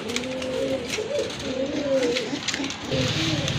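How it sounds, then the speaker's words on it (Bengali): Large pigeons of a fancy breed cooing close by, a repeated throaty rolling coo over faint background noise. "আরেক জোড়া কবুতর দেখতে পাচ্ছেন, খুবই সুন্দর, অনেক বড় সাইজের"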